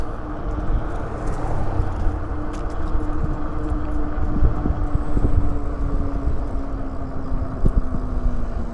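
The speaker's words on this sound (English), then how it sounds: "Windy out here." Strong wind buffets a camera microphone while riding an e-bike outdoors in Tennessee, a continuous low, rumbling roar that swells and dips slightly with gusts, with no talking.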